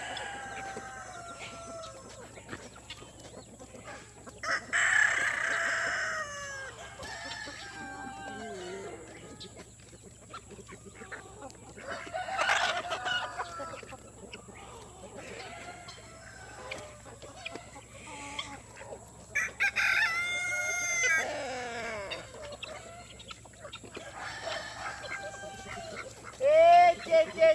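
Homestead chickens clucking on and off with a rooster crowing in between, outdoors over a steady low hum, with a person talking to the birds at times.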